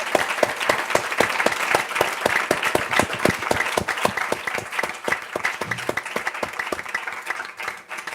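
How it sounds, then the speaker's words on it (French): An audience warmly applauds three guests at a session on the cognitive science of reading, many hands joined by a strong rhythmic beat of unison clapping, steady and close for several seconds before easing off near the end. "je vous propose peut-être tout d'abord d'applaudir vraiment chaleureusement nos 3 invités"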